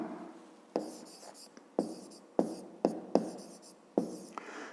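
A pen writes by hand on paper, giving soft scratching strokes punctuated by about eight sharp taps spaced irregularly over a few seconds, close and quiet with no talk.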